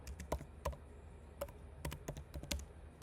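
Computer keyboard keys tapped in short irregular bursts while text is entered at a Python input prompt, crisp close clicks alone against quiet room hiss.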